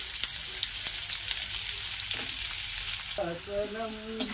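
Onions sizzle in hot oil with a dense, even crackle close by, and a short burst of speech cuts in over the frying toward the end.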